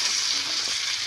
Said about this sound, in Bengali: চলো এই মশলাটা এবারে কষানো হোক